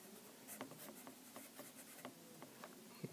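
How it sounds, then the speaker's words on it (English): A pen or marker writes a word on a surface in a quiet setting: a run of faint, soft scratching strokes with short pauses between them, ending with a small tap. "So let's write it."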